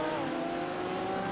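Race cars in a 12-hour endurance race at Daytona, including a Mercedes, roar by in a steady engine drone with a sustained tonal whine, loud and continuous with no talk.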